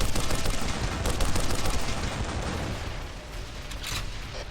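Dense, continuous gunfire from the first-person shooter game Darkest of Days, a loud clattering barrage of overlapping shots that keeps up throughout and eases slightly toward the end.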